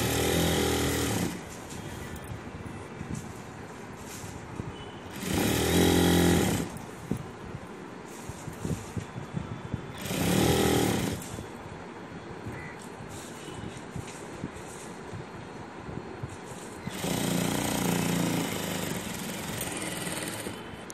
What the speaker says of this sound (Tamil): இந்த ரெண்டு சைடை இப்படி சின்னதாக ரெண்டு மடிப்பு மடித்து நம்ம ஓரமாக ஸ்டிச் பண்ண போகிறோம்